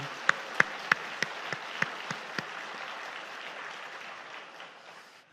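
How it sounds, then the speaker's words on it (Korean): A church congregation at an anniversary Sunday service bursts into a few seconds of applause, with scattered sharp claps standing out over the crowd's dense clapping before it fades away. "우리 하나님께 큰 박수 한번 드리겠습니다."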